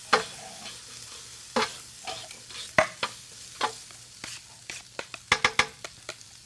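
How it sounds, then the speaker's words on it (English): Bell pepper and carrot sear in a stir fry, with a soft sizzle beneath repeated scraping and clacking of a utensil against the pan, the strokes coming faster toward the end. "As we sear that, we're gonna add more and more vegetable"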